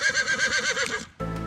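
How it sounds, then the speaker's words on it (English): A horse in a video game neighs loudly and close, a long wavering whinny lasting about a second, then cut off by a different steady tone. "I forgot to chain my horse up."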